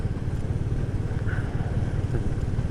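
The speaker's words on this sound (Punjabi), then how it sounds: "ਜਦੋਂ ਬਾਈਕ 60 70 ਦੀ ਸਪੀਡ ਤੇ ਜਾਂਦਾ ਹੈ" A motorcycle rides along a mountain road near the Zojila pass in Ladakh at around 60 to 70 speed, a steady droning engine hum with heavy rushing wind noise, continuous and close.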